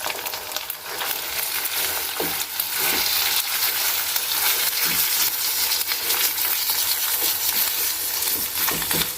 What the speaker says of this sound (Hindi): अब इसको इसी ऑयल में अच्छी तरह फ्राई कर लेंगे।